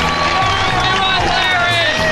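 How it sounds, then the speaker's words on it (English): Large crowd cheering and applauding continuously, loud and dense, with voices calling out within the roar. "Is there no sweeter sound than that of your own name, buried in cheers and applause?"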